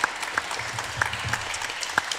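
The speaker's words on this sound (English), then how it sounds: "Could we give Jeff a round of applause, please?" A small audience at a church annual meeting applauds, scattered handclaps with a few sharper claps standing out, fairly light and brief in a quiet room.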